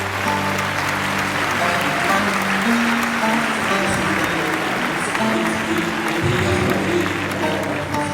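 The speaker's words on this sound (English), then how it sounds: "Can we have a huge round of applause for our panelists and moderator?" An audience at a fintech conference claps in sustained, dense applause for the panelists and moderator, a steady wash of many hands at an even level throughout.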